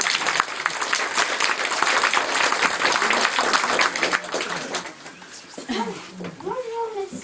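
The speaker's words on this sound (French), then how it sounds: "Vous pouvez déjà bien les applaudir." Audience of families applauding a third-grade class's theatre performance, brisk dense clapping for about five seconds that then fades, followed by a few voices and chatter.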